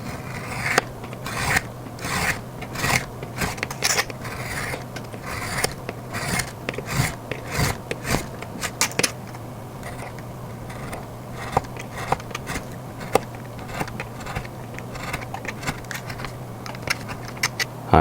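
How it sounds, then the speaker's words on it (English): Paper being cut with a blade or scissors all around the outside edge of a paper Assassin's Creed dual extended hidden blade base piece: steady close rasping, scraping strokes in irregular bursts, with no talking. "Now I'm just going to cut all around the outside edge"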